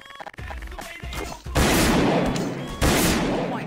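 Gunfire in the game Garry's Mod DarkRP: two loud, close bursts of rapid shots with crashing impacts, the first sustained for over a second, the second starting after a short break, preceded by quieter game noise.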